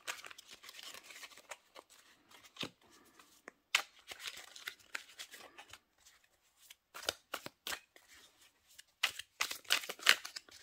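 Large deck of cards being shuffled and handled by hand, with soft riffles, snaps and papery flicks in irregular bursts, close and quiet, with no talk.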